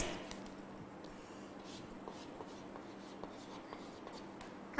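Writing on a board during a class 8 lesson: a steady series of faint scratchy, tapping strokes with a low background hum, no voices.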